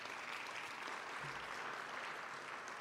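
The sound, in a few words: applause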